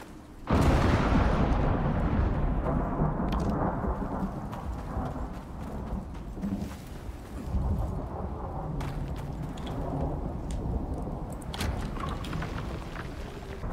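Stormy weather in the survival video game Icarus, a continuous loud rumbling roar with heavy low wash and sharp bursts like thunder cracks scattered throughout, steady and close without speech.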